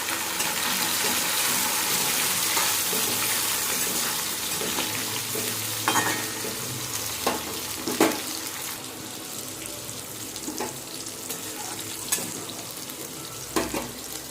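Tomatoes and green chillies fry in a hot pan while being stirred, a steady close sizzle broken by scattered scrapes and clinks of the spoon against the pan.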